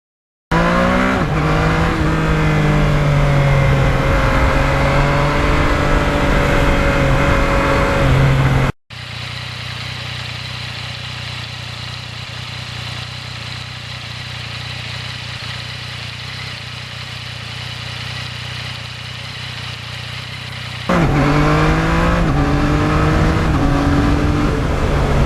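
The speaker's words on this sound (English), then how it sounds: "I just love going through the gears with that quick shifter" A 2020 Yamaha MT-09 motorcycle rides on country roads, its engine note rising through the gears with quick-shifter changes, loud and close, then dropping to a steadier cruising rumble before climbing again.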